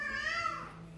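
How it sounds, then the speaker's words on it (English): A pet cat lets out a single drawn-out meow that rises and then falls away over about a second, close to the mic, in a quiet indoor room. "don't mind my cat"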